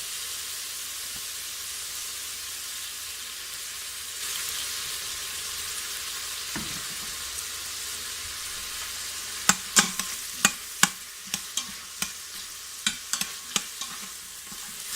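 Onions frying in oil in an Instant Pot, a steady soft sizzle close by, with a run of sharp clacks from stirring near the end.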